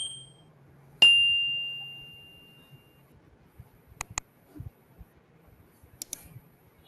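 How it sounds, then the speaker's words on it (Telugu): A bell sound effect played in a video editing app rings once as a bright, clear ding and decays slowly, followed by a few faint clicks and taps. "బెల్ సింబల్ కావాలి, బెల్,"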